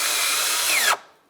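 A power tool snugs bolts in the wheel well of a 2011-2018 Volkswagen Jetta during a water pump and timing belt job: one steady, close, high whirring burst for just under a second, then it stops abruptly.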